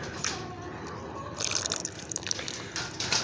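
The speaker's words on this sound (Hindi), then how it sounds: "तो अब हम इसमें ऑयल शामिल करेंगे, आधा पैकेट ऑयल का शामिल करेंगे यहाँ पर।" Cooking oil, half a packet, pours into a pan of simmering grated carrot halwa (gajrela), giving a soft, close liquid trickle with faint dripping that grows into busier splashy bursts partway through, with no talking.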